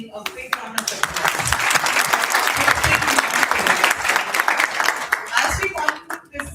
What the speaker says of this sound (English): Let's give our Kirtan team a big round of applause.